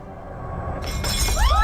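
A coffee cup smashes during a drama scene, one sharp, loud shatter followed by brief ringing clinks of breaking ceramic, close and alone.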